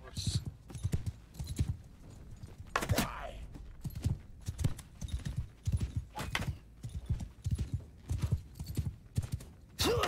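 Rapid, steady hoofbeats of a galloping horse in the Game of Thrones mod for the video game Bannerlord, rhythmic clip-clops running throughout over battle noise, with a brief whinny.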